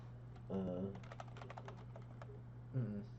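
Quick bursts of computer keyboard typing clatter through the middle, close and moderately loud, with people talking briefly before and after.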